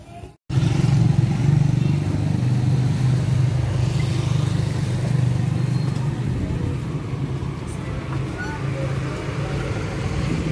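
A motorcycle engine drones steadily with a low rumble while riding, with road and wind noise throughout.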